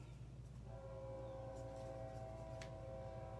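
A distant train rumbles past with a low steady roar and a faint horn tone rising in the background.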